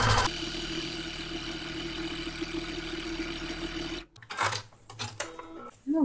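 A sewing machine stitches fabric for an upcycled eco tote bag, running in a loud steady whirring drone close up, then stopping abruptly as a few handling clicks and a short voice follow.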